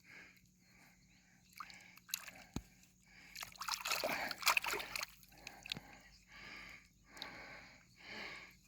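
An arrowhead is rinsed in muddy creek water, with soft splashes and sloshing close by, a few sharp drips and spatters among them, in a quiet outdoor setting.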